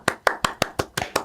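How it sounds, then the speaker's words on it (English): Seven evenly spaced hand claps, crisp and close, forming a short rhythmic burst that stands in for a crowd cheering. "And the crowd went wild."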